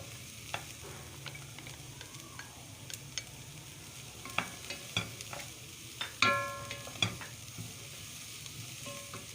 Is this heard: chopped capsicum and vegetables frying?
yes